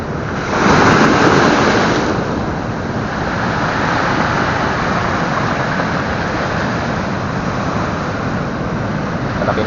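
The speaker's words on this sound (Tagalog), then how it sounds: "Pakalaki ng alon dito sa amin, no?" Large ocean waves crash near a seaside house during habagat monsoon weather, a loud continuous roaring surf with wind buffeting the microphone and a heavier surge early on.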